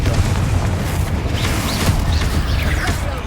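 A Confringo fire spell exploding in a tomb in Hogwarts Legacy, a loud, sustained boom and rumbling blast with crackling debris, close and filling the space.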